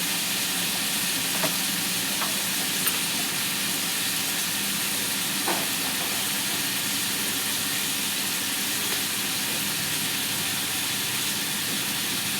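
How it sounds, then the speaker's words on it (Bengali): Mixed vegetables with tomato, salt, nigella seeds and green chillies fry in a pan, giving a steady close sizzling hiss with occasional faint stirring scrapes and no talk. "কয়েক চামচ লবণ দিলাম, কালো জিরা, কাঁচা লঙ্কা দিয়ে ভেজে এটাকে নাড়তে থাকবো কষিয়ে কষিয়ে।"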